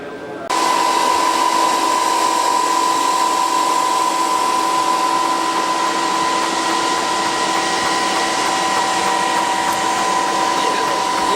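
A NovaCentrix PulseForge 1200 photonic curing machine spools up with an abrupt start, then holds a loud, steady mechanical whir with a constant tonal hum, close and continuous throughout.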